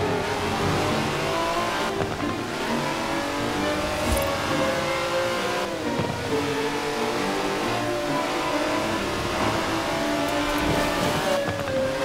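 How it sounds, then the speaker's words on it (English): A 90-year-old racing car in the Forza Horizon 4 video game roars loudly throughout, its engine revving up and down through gear changes with brief tire squeal, close and with no talking. "That's a 90-year-old racing car."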